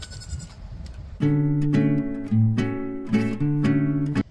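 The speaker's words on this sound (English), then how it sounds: "But here is Zoe, our oldest goat on the farm." A Nigerian dwarf goat, the oldest on a small farm, gives a long wavering bleat of several pulsing calls, loud and close, after a moment of quieter background sound.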